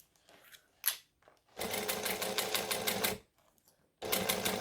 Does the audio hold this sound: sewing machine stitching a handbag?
yes